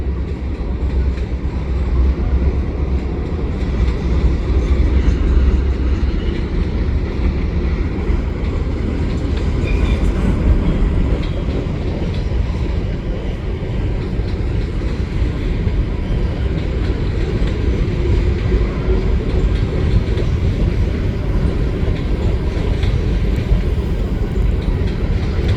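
A freight train rumbles past steadily and loudly, with a continuous heavy roar and rhythmic wheel clatter throughout, no voices.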